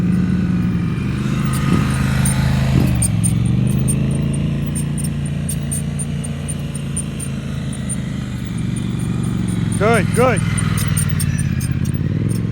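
A motorcycle ridden slowly through circle exercises in a practice session, its engine idling and lightly revving in a steady low drone, with an instructor's voice briefly heard over it.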